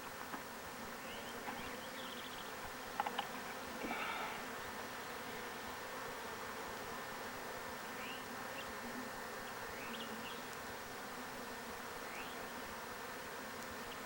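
Honey bees buzz steadily around an open hive frame during queen rearing, a continuous low drone with a few brief louder passes close by, no talk.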